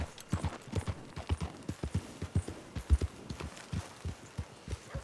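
Horse hooves clip-clopping in Red Dead Redemption 2, a steady, fairly soft walking rhythm of repeated thuds with no talk over it.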